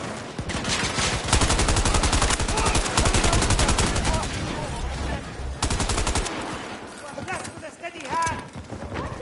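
Rapid gunfire crackles through a Battlefield 2042 match as bursts of automatic shots rattle in close, dense volleys, with a player talking over the shooting and brief pauses between bursts.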